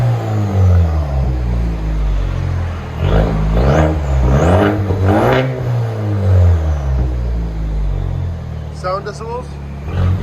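Straight-piped 2021 Chevy Silverado with a 2.7L turbo engine revving loudly up close, several rising and falling throttle blips over a deep rumbling idle, with people talking over it.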